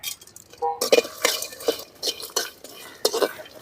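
Cumin seeds and black pepper dry-roasting in a pan, stirred with a metal spoon: close scraping and clinking strokes with a faint crackle and sizzle underneath, a light voice briefly audible.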